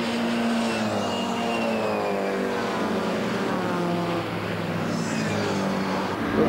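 Race cars at the 1997 Nurburgring 24 hours, including the slower Group 3 cars such as Minis, drone steadily past in a continuous loud engine roar with shifting pitch, no voices.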